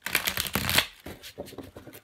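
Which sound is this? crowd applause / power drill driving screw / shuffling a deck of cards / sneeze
shuffling a deck of cards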